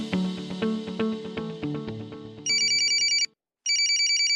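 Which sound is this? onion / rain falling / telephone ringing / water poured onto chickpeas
telephone ringing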